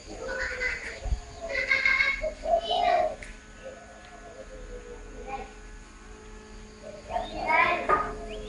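A frog croaks nearby in several short, throaty bursts at irregular intervals, with quieter gaps between calls and a faint steady hum underneath.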